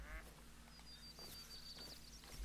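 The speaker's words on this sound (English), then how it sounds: "But I'm hearing mallards. Those are the ducks." Mallard ducks quack faintly in a lakeside hunting video game, a few soft calls scattered over a quiet background with a thin bird whistle.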